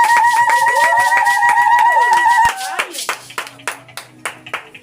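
A church congregation applauds. A loud sustained tone and voices fill the first half, then separate hand claps ring out in a loose rhythm.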